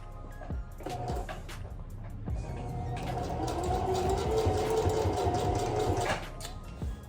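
A sewing machine stitches a flat closure cap onto the start of a zipper track, giving a steady mechanical whirr that runs loud and continuous for several seconds close to the microphone.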